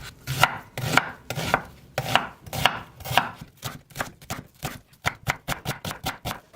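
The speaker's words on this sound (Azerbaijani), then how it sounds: "İndi əsas bizə soğandır. Onu qəşəng doğrayıram və qovururam." A knife chopping onions on a cutting board, with close, crisp strokes in a steady rhythm that quicken into a rapid run of lighter cuts near the end.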